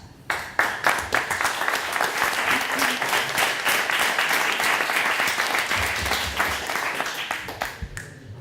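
An audience at a plenary session of a cannabis conference breaks into sustained, dense applause, many hands clapping together for several seconds before it tapers off, fairly loud and even.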